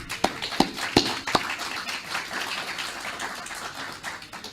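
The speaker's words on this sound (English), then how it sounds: "Let's give a round of applause for Ms." An audience applauds Ms. Temple at a church gathering, opening with a few sharp separate claps and then settling into moderate, steady clapping from a small crowd that fades slightly toward the end.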